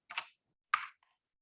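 Two short bursts of keystrokes on a computer keyboard, close and quiet, separated by a pause and followed by a couple of faint single taps.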